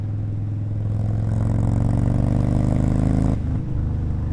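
A 2022 Indian Chief Bobber with a Thunderstroke 111 V-twin and full aftermarket exhaust idles and revs, a loud, deep, throbbing rumble that holds steady for over three seconds before cutting off abruptly.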